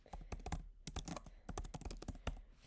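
Fingers tap out a name on a computer keyboard in quick, uneven bursts of sharp clicks, close and clear, with no voices.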